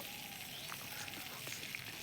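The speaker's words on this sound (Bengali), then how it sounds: "ভালো করে গরম হয়ে গেছে আবার দিয়ে দেবো আমি আলু" Potatoes go back into reheated hot oil in a pan, giving a faint, continuous sizzle with a few small pops and crackles scattered through it, heard close but quietly and without talking.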